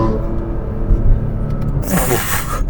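A BMW F80 M3 engine hums with a low, steady rumble under light throttle from inside the car, with a brief rise in broadband roar near the end.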